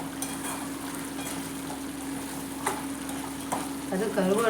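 Dried fish thokku being stirred in a pan, soft scraping and sizzling under a steady hum, with a few faint knocks of the spoon and a louder burst of sizzle at the end.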